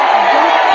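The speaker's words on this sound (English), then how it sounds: "I don't care about y'all booing." Crowd booing at a political campaign event: a dense, loud, continuous wash of many voices, lasting under a second.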